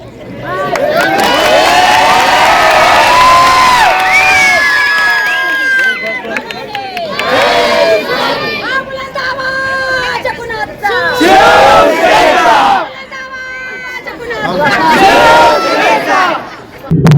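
A large rally crowd of Shiv Sainiks cheers and roars loudly and continuously, with swelling shouts, whistles and voices that surge in several waves and dip briefly between them.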